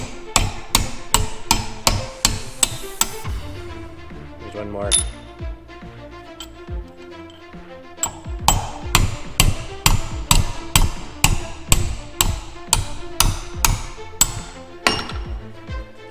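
Metal hammer strikes drive corroded bolts and pins out of a Hawker Typhoon wing spar, the steady loud blows coming in quick bursts with brief pauses between them and a few spoken words in between.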